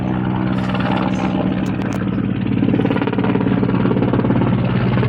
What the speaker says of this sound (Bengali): হেলিকপ্টার যাচ্ছে মাথার উপর দিয়ে